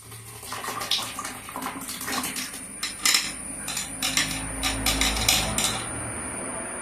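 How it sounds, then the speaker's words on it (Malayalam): Blended pineapple is poured into a bronze uruli pot, making a continuous wet pouring and splashing sound with metallic clinks and clatter over a low hum, fairly loud and close, with no talking. "ഉരുളിയിലേക്ക് ഒഴിക്കുവാണ്."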